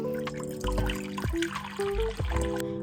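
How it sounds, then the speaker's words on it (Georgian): Boiled water is poured while making handmade candles, a steady trickling stream heard close up and on its own, with a few drips and splashes between the pours. "უკვე გაცხადდა წყალი და ეხა ჩავასხამ"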